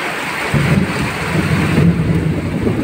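Steady heavy rain hisses continuously while a deep, loud rumble of thunder rolls in after a moment and carries on underneath, with no voices.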